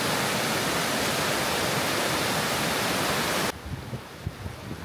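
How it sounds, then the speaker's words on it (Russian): A scenic mountain river in Montana rushes steadily over rocks, a loud broadband wash that suddenly drops to a softer, more distant flow partway through. "И вот такая вот тут горная, значит, речка красивая."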